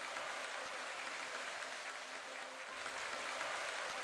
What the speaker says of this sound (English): Some clapping.